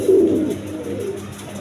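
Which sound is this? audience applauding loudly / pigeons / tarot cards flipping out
pigeons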